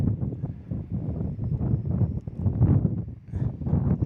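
Strong wind gusting near 40 miles an hour at Kansas City International Airport ahead of a storm, a continuous loud roar and buffeting rumble that swells and dips throughout.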